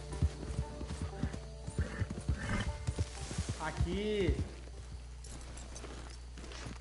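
A horse in Red Dead Redemption 2 clip-clops along with rapid hoofbeats, then lets out a clear rising and falling neigh, with someone briefly speaking over the game sounds.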